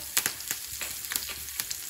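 Crushed garlic and curry leaves hitting hot oil in a pan for tomato garlic chutney, a close crackling sizzle with a few sharp pops and light stirring scrapes, brief and without talking.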